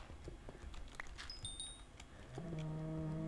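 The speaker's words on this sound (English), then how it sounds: "Ah, the trapped cows!" Trapped cows mooing in a video game: after some faint clicks and high chimes, one long, low, drawn-out moo rises near the end and holds steady.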